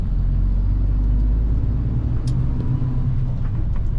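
A convoy of John Deere combine harvesters rolls past on a road as a loud, continuous low engine rumble and drone with steady vehicle noise close by and no talking.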